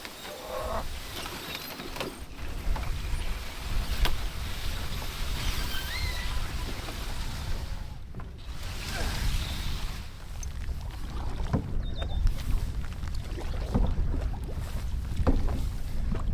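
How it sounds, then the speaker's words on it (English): A canoe paddled through a bulrush stand on a Temagami river in gusty spring wind: repeated close paddle strokes and water swishes over a constant rush of wind, with no voices. "Hard to keep the canoe tracking straight. Paddling through a bulrush forest right now."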